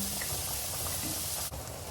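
Meatballs frying in a pan, a steady close sizzle and bubbling hiss lasting about two seconds, with a single brief clack near the end.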